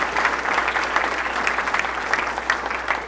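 An audience applauds NCAA officials at a college event, a dense, continuous burst of many hands clapping at once, loud and even throughout with no voices on top.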